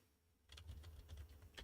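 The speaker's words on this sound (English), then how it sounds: "I actually do have a mechanical keyboard." Quiet, close typing on a mechanical keyboard: after a short pause, a steady run of rapid key clicks continues to the end, alone without talk.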